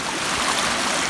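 Rushing water of a stream on the Appalachian Trail, a loud, dense, continuous broadband wash heard close up with no voices.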